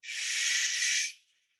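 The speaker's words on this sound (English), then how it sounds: "Exhaling with that shoe sound." A steady breathy exhale with a hissing shoo quality during a qigong breathing exercise, lasting about a second before fading out into silence.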